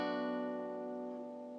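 A single guitar chord in an easy variation, fretting only the first string, rings out alone and sustains steadily, fading slowly over a second and a half. It comes from a song lesson.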